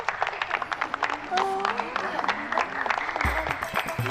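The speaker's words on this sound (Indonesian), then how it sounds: "Tolong aplaus" A studio audience at an Indonesian television show applauds on cue, a burst of steady clapping mixed with voices and talk, with a low thump near the end.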